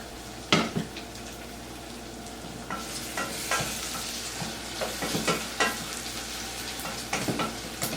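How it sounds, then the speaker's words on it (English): Beans or vegetables frying in a pan for Macedonian tavche gravche, sizzling steadily as a spoon stirs them in several scraping bursts, close and moderately loud, with no talking. "It's important that it's nicely fried and gives the taste out."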